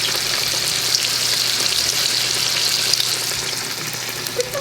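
Freshly caught saltwater fish frying in a pan at a Florida catch-and-cook, giving a steady, close, even sizzle with a constant hiss and no talk.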